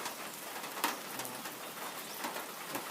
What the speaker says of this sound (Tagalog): karon gaulan-ulan po